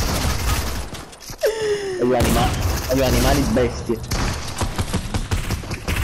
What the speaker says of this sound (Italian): Non so chi cazzo spara, sinceramente